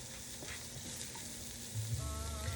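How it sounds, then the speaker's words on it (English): Already-cooked chicken sautéing in a hot pan, a dense, continuous sizzle and crackle with light stirring, close and steady throughout the short stretch. "drop it in the pan and saute it just for a couple seconds"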